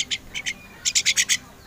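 A black bird calls near a backyard cage, giving short, bright whistled notes, two or three spaced out at first and then a quick run of five or six evenly spaced calls, close and clear.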